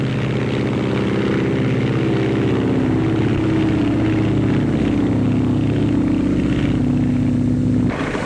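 A 1929 Lockheed propeller airplane takes off, its engine droning loud and steady at close range with a rough, throbbing roar that holds for several seconds before cutting away at the end.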